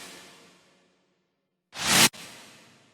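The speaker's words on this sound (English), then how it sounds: "So a cool thing to note about the chords are these tape stop effects" Future bass chords fade out, then after a brief silence a loud tape stop effect sweeps down and cuts off abruptly before the chords ring back in, all alone with no voices.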